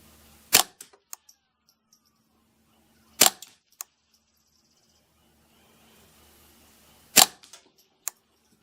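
Three sharp, fairly quiet rifle cracks from a custom Ruger 10/22 firing subsonic .22LR ammunition, spaced a few seconds apart at an outdoor range, each followed by faint clicks and a short tail, with no talking.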